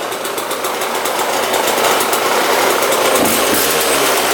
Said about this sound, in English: Right, even idling, pretty good.